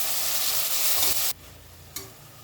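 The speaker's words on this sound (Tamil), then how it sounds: "தக்காளி நல்லா வதங்கட்டும்" Tomatoes sautéing in a pan for vegetable biryani, a loud, dense sizzle that cuts off abruptly after about a second, leaving a faint hiss and one brief knock.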